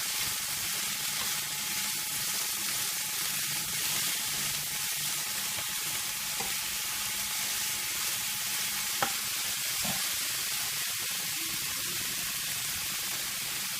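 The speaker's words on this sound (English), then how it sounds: "I'm just going to fry that in until it's nice and soft" Food sizzles steadily in a frying pan over lowered heat, softening for a chicken and bacon pie; a continuous, even hiss with a few faint clicks and no talking.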